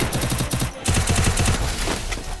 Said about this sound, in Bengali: স্নাইপার আদি আজকাল দেখি হেডশট দিয়ে হয়ে গেছে